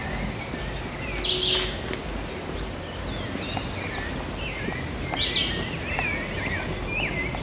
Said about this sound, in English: I'm sure you can pick up the sounds of the birds.